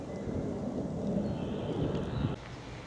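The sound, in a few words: wind blowing into the microphone outdoors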